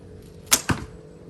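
A quiet hybrid Turkish bow of 31 lbs draw weight releases its string with a quick, quiet snap, followed a split second later by the sharp thud of an arrow striking its target, then silence.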